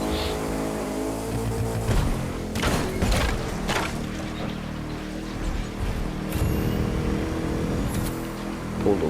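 A race car engine in the video game The Crew 2 revs and shifts through gears, with a steady drone broken by a few sharp thumps and surges. It sounds close and continuous, with no talking.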